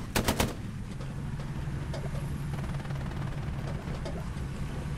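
Gunshots in the Hell Let Loose war game, with a quick loud burst of rapid close fire at the start and then a steady stream of fainter, more distant shots over low rumbling battlefield noise.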